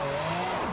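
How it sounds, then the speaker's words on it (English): A car drifting in a racing video game, its tires squealing in a steady continuous screech with a pitch that bends and falls near the end, loud and close with no talk. "enjoy this little drift here"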